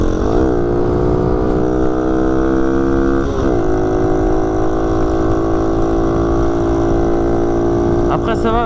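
A motorcycle engine drones steadily at cruising speed on a country road uphill at about 80, with rising and falling pitch as it shifts, loud and continuous throughout.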